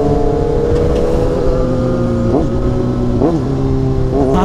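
A Kawasaki ZX6R motorcycle engine runs loud and close, holding a steady high drone with short blips where the revs jump and settle, alone without talk.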